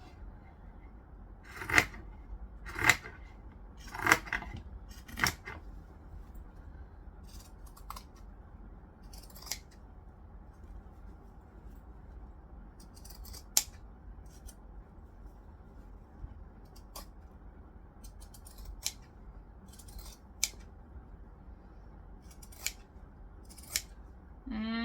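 Scissors snip away excess fabric during garment alteration: four crisp, close cuts in quick succession near the start, then scattered lighter snips and clicks over a quiet background.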